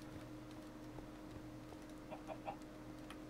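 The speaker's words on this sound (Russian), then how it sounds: "Господи, курица, не пугай меня" Chicken clucking in the video game Minecraft: a few short, faint clucks in quick succession over a low steady background hum.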